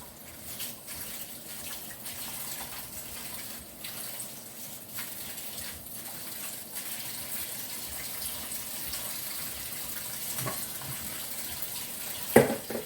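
Collard greens are rinsed under running water, a steady splashing gush from a tap with soft shifting of leaves and a couple of louder knocks near the end.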